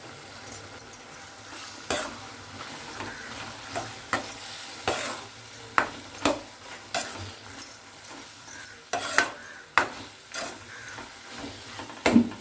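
Spice paste for vangibath fries in a pan over a low flame while a spoon stirs it, producing repeated scraping strokes in an uneven rhythm over a steady soft sizzle, close by, with no voices.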